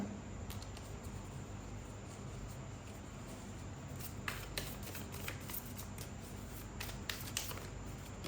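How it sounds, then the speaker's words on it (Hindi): Tarot-style playing cards shuffled by hand during a card reading, with a steady run of soft riffling clicks and papery flutters, close and fairly quiet, with no voices. "आइए हम यहाँ पर कुछ कार्ड्स भी लेते हैं"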